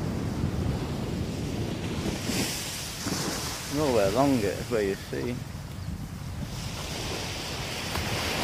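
Ocean surf breaking on a beach, with wind buffeting the microphone as a steady, loud wash throughout, while someone talks over it in the middle.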